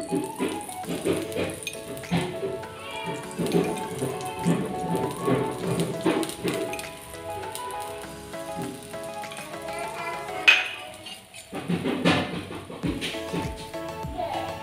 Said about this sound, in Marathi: आता थोडंसं साईडने तेल टाकू.